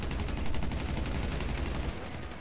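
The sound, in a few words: gunfire in video game Battlefield 4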